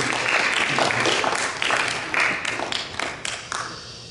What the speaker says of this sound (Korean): 아버지들에게 격려의 박수.